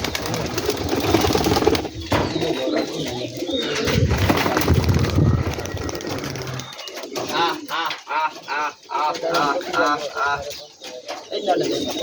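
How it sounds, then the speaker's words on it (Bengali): Giribaz pigeons coo softly while being fed, amid rustling and flapping wings, with busy background noise at first, then a quieter stretch of repeated coos and chirps. "এই যে ভাই কবুতরগুলো খাইতে দিচ্ছে।"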